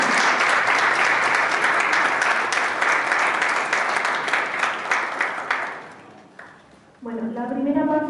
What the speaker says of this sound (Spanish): Un aplauso a nuestro invitado.